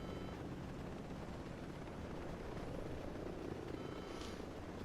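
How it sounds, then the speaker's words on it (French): Helicopter in the video game Ghost Recon Breakpoint, a steady rotor and engine drone holding at moderate level throughout, with no talk over it. "Le problème, c'est qu'il y a un hélicoptère qui me suit."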